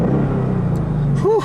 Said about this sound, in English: I'm definitely liking the way that 5-liter V8 engine sounds.